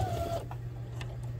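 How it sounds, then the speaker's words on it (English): A sewing machine runs a steady, even stitch down the center of webbing for hockey or figure skate guards, a close mechanical hum heard alone for a brief moment. "I'm going to put it into the machine, and we're just gonna sew right down the center of the webbing."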